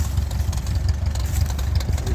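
1948 Ford 8N tractor engine idling close by, a steady low rumbling chug with rapid, even pulses and no talking.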